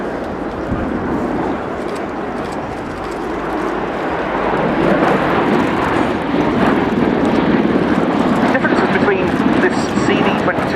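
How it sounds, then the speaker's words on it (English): Bell Boeing CV-22B Osprey tiltrotor aircraft hovering and maneuvering nearby, a loud, steady roaring rotor and engine rumble that swells louder midway, with a person speaking over it. "when the aircraft comes to the hover and maneuvers in front of us"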